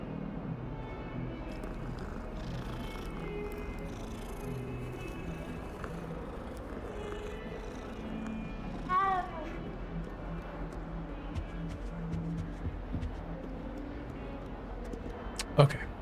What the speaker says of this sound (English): There's another cat.